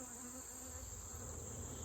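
Honeybees at an open late-summer hive during colony inspection hum in a steady, close, unbroken buzz throughout the short moment, no talking heard.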